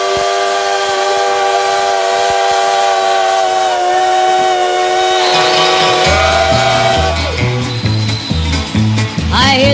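A Thomas the Train toy engine blows a loud, sustained steam-whistle tone that shifts pitch, then gives way to a rhythmic chugging pattern with more whistle bursts near the end.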